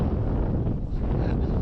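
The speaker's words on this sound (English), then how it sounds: "it's real windy like this" Strong wind buffets the microphone in a steady, rumbling roar that fills the whole clip without letting up.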